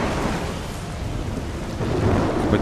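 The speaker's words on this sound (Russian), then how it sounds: "шторм прям причем." A thunderstorm in the video game Assassin's Creed: Revelations: dense, steady rain with deep rumbling thunder that swells louder near the end, with no talk.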